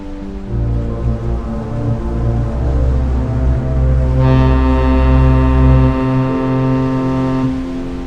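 A ship sounds a loud, deep foghorn as it reaches the shore. The blast is sustained and steady, with a harsher, brighter layer joining partway through before the tone fades out.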